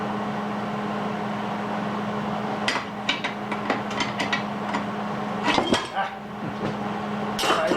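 A small crowbar prying at parts of a disk belt sander, giving a few sharp metallic knocks and creaks spaced over a steady low machine hum, close by.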